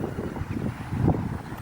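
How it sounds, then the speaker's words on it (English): Gusty outdoor wind buffets the microphone during a JJRC X25 drone flight, a low rumbling roar that swells and dips over a second or so, with no talking. "It's a shame the wind's about."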